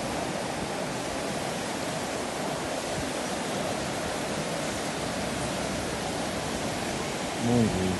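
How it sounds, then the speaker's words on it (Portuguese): Water pours down a waterfall at Machu Picchu as a steady, loud broadband rush that stays even throughout, with a brief faint voice near the end. "Olha aqui, aqui a água descendo, vê como tá."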